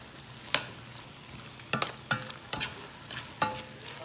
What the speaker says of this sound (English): I'm going to mix it well so it cooks